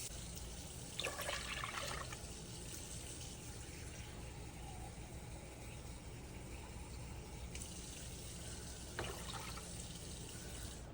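Tap water runs into a pot for cooking creamy grits at home, a steady faucet stream with brief louder splashing bursts near the start and end, no talking.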